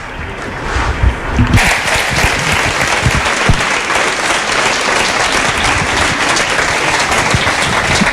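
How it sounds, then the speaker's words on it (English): Audience applause for a guest speaker at a public talk, a few scattered claps swelling after a second into loud continuous clapping from a large crowd that holds steady for several seconds. "So a big round of applause for Christophe Galfard."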